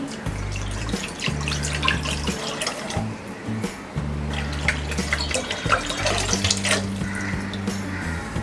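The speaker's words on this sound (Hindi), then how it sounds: "पैन में डालेंगे ये पानी" Water runs steadily into a cooking pan on a gas stove for pasta boiling, a continuous splashing pour heard close and alone with no talk.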